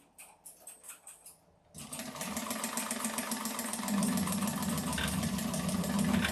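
Household sewing machine running with a rough, faulty sound: a few soft separate clicks first, then a continuous loud mechanical whirring and rattling that keeps going steadily to the end.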